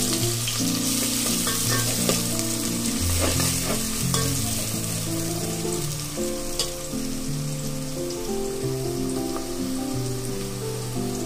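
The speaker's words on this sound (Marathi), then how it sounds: "कांदा आपल्याला सोनेरी रंग येईपर्यंत तळून घ्यायचा आहे।" Chopped onion frying in oil with bay leaf, cloves, green and black cardamom and cumin, for chicken dum biryani; a steady close sizzle and crackle with occasional stirring scrapes, continuous throughout with no talking.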